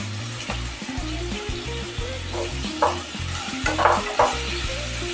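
Shallots and onions frying with salt in a pan for a spicy mackerel curry, a steady sizzle under a low droning hum, with occasional louder scrapes of stirring.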